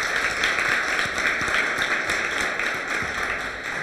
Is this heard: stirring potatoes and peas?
no